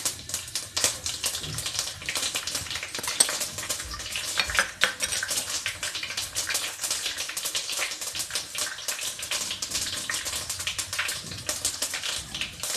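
Fenugreek seeds go into hot oil that already holds sputtering mustard seeds, for a Kerala-style seer fish curry, giving a continuous crackling sizzle with rapid pops and spits, close and steady throughout.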